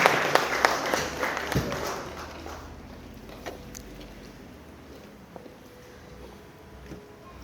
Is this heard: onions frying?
no